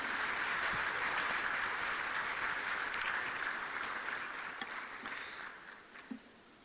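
Conference audience at a national economic dialogue gives a round of applause, steady clapping that gradually tapers and thins out, with a few isolated claps near the close.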